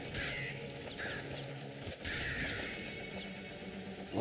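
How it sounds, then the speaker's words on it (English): Crows cawing in the game Nuclear Throne, several faint harsh caws spaced out over a low steady game background hum, with no talk. "A lot of crows."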